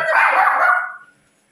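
A single close, loud bark from a dog, sharp and brief, fading out into quiet.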